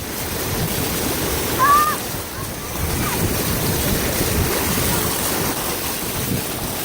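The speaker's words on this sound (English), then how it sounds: "Making it through this hard pressured water." Floodwater rushes over a bridge in a loud, continuous broadband roar mixed with wind buffeting the microphone, steady throughout with a brief squeak early on.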